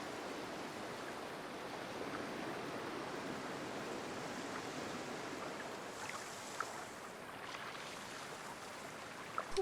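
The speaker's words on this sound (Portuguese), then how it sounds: "É só som de água." Flowing water in the video game Season: A Letter to the Future, a soft continuous rushing wash heard faintly and evenly throughout, with a few small clicks near the end.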